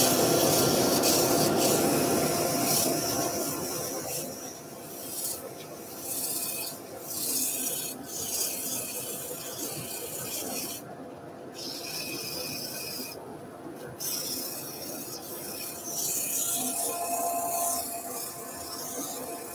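Sandpaper of 150 grit rubs against the lip of a turned wooden button box spinning on a lathe, giving a continuous close scratchy hiss that swells and eases with brief pauses, with no talking.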